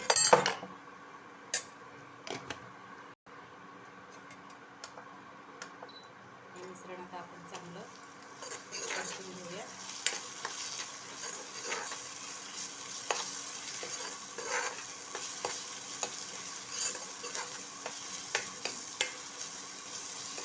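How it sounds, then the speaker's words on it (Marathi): Ginger-garlic paste with turmeric and red masala sautés in a pan for egg curry, giving a faint low sizzle with scattered spoon scrapes and clinks against the pan. "आता आपले मसाले चांगले परतलेले आहेत"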